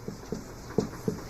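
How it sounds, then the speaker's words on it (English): A dog panting close by, four quick breathy puffs in an uneven rhythm with no other sounds around them. "what is that? A dog"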